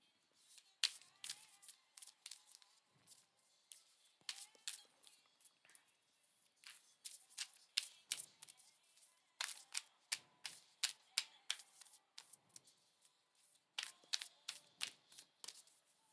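Oracle cards being shuffled by hand in repeated quick riffling bursts, close and fairly soft, with short pauses between rounds and no talking.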